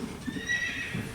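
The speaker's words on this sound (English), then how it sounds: "I think I hear a horse." A horse whinnies softly at a distance, a thin high wavering call over a low background rumble.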